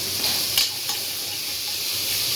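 Chopped tomatoes with salt sauté in a hot pan for vegetable biryani, giving off a steady, close sizzle and hiss with a couple of brief stirring scrapes and no talk.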